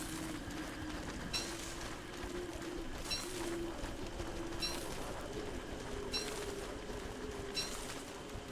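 Birdsong in the video game Don't Starve Together: repeated short chirps and cooing calls recur every second or so over a steady low ambient hum, moderately quiet and with no voices.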